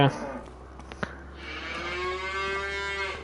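Cattle on a farm in Farming Simulator 25 give a low moo followed by a long drawn-out moo, with a couple of faint clicks and a quiet ambient hum under it.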